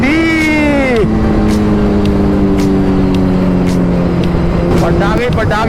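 A superbike's engine drones and revs on the road, its exhaust crackling with sharp, firecracker-like pops scattered over the steady roar, close and loud.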